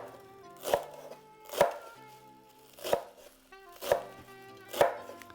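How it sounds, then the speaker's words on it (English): Flat leaf parsley chopped finely with a knife on a board, five sharp, evenly spaced chops about a second apart, close and crisp against a quiet background with faint music. "we need to chop this real finely"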